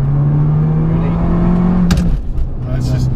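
An Abarth 695 Biposto engine drones steadily inside the car, then a brief dip and shift in pitch marks a clutchless gear change before the note settles again, with people talking over it.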